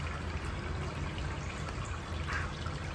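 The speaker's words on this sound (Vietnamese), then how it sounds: "ta đổ nước vào bình 1" Water is poured into a container for a student model that simulates sea waves to generate electricity; a steady trickling, splashing pour runs continuously at close range.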